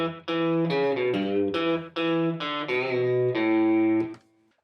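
Guitar playing the intro lick of a song, a clear run of picked notes and short phrases with a slightly effected electric tone, played alone and close, ending on a ringing note.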